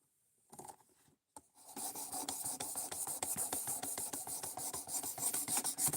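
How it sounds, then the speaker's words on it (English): Blade edge sharpened on a whetstone, a brief scrape and pause, then a close, steady run of rapid rhythmic rasping strokes with no talk. "if you already got your edge set and you're sharpening at about the same angle, it takes no time whatsoever to get through this"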